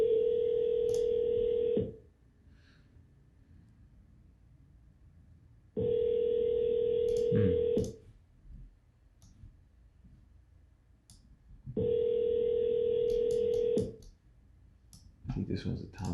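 Telephone dial tone during an outgoing call, a steady tone sounding in three separate bursts of about two seconds each with quiet gaps between them and faint clicks.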